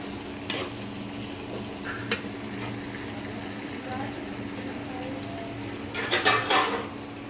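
Low steady sizzle of beef tripe in plenty of oil in a pan, with a sudden louder burst of hissing near the end as water is added, a few utensil clinks throughout.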